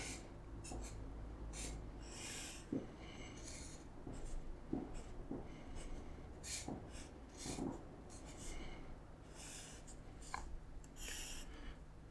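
A pen scratches over paper as a circuit diagram of a homebrew DRAM cell is drawn, with short quiet strokes and scribbles in uneven bursts, close and faint against light room noise, with an occasional breath.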